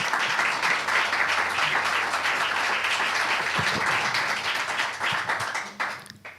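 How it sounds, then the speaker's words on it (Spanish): An audience at a cultural seminar on culture and territory applauds in a dense, even round of clapping that holds steady for several seconds before fading near the end. "Un aplauso para ella."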